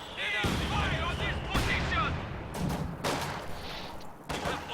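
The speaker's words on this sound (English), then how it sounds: "Mortars continuing to fire away." Mortars fire repeatedly in a World War II real-time strategy game battle, with sharp booming blasts and crackling gunfire stacking up densely amid ongoing combat noise, while a commentator talks over the action.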